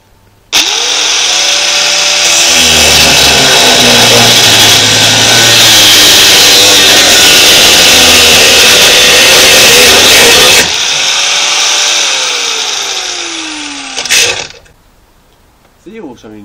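Angle grinder cutting metal during a repair, a very loud, continuous high-pitched whine and grinding roar that runs for about ten seconds, spins down, restarts briefly, then stops, with no talk.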